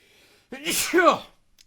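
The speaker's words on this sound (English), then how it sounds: "And I sneezed" A single sharp sneeze, close and loud, with a quick intake of breath before the burst.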